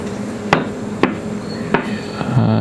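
Knife strokes through peppers being cut into quarter-inch slices on a cutting board, four spaced, sharp thuds against a steady background hum, close and with no talking.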